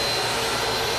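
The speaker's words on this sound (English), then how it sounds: "So now we're vacuuming and I'm cleaning up more glass." A vacuum cleaner sucks up broken mirror glass from a floor, its motor roaring in a steady, loud, unbroken whine with no voices over it.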